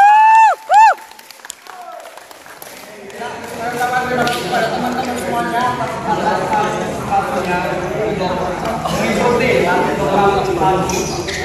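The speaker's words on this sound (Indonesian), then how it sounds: "Tepuk tangan untuk Latin Tuk." Crowd at a volleyball tournament prize ceremony in Cilacap breaks into sustained applause and cheering after a brief high-pitched tone, the noise rising and holding steady under a busy hubbub of voices.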